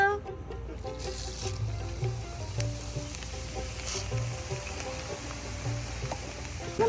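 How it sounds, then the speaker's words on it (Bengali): Flattened rice (chira) fries in a pan with a steady, dense, close sizzle that runs throughout, with occasional soft stirring scrapes beneath it. "এবার আমি চিরাগুলো ভেজে নেব"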